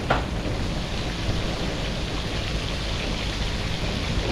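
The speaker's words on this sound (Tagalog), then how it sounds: "Ulan ito." Rain falls as a continuous, even hiss with no distinct drops standing out, steady and moderately loud for several seconds with no voices.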